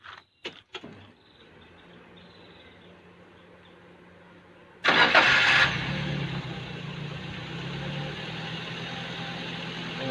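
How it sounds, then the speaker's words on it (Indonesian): Daihatsu Granmax 2016 engine cranks with a sudden loud burst and settles into a steady, rough idle that continues alone, with a few clicks beforehand. "kemudian kita nyalakan mesinnya."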